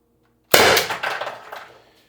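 A Byrna LE launcher fires a single 4.6 g LLB round, one sharp loud crack with a brief clattering ring that decays over about a second and a half.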